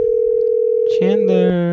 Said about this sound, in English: Ooh, 3 rings. Low chance he answers.